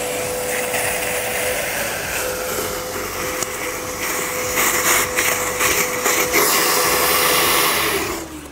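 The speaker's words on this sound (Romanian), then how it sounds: "Acum o să vedeți apa de aici, cum va fi trasă de către aspirator." A Karcher WD3 Premium wet vacuum cleaner sucking up water in a car roars with a steady whine, its rushing suction growing louder and rougher before cutting off near the end.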